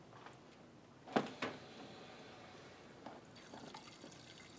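Water from a GrowoniX GX400 reverse-osmosis filter system runs into a beaker as a faint, steady trickle, with two sharp clicks near the start and a few softer splashes later.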